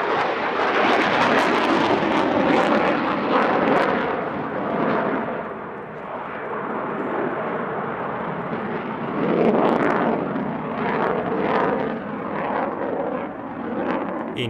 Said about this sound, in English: he's been able to fly the F-16 like no airshow pilot has done before